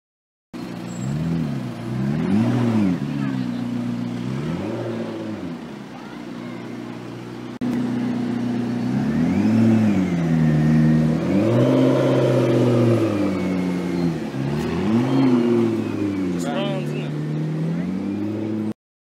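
A McLaren P1 MSO sports car drives past, its engine repeatedly rising and falling in pitch as it accelerates and eases off over about twenty seconds, loud and close with a steady drone between revs.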